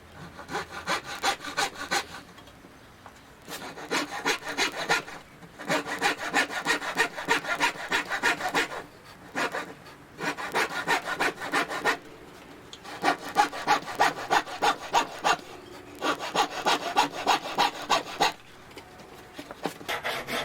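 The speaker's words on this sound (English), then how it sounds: "it just needs a bit of sanding down" Hand sanding of a wooden step: repeated bursts of rough back-and-forth scraping strokes, close and steady, broken by brief pauses between sets, with no talking.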